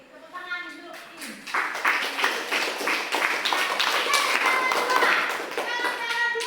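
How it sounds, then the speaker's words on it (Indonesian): Schoolchildren in a classroom break into a burst of hand clapping: sharp claps build quickly and continue close by, mixed with lively children's voices. "tepuk tangan dulu"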